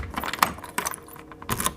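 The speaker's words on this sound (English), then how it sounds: "She heard keys jingling in the hallway." Keys jingle in a hallway in three distinct bursts of metallic clinking, close and fairly loud, with no voices.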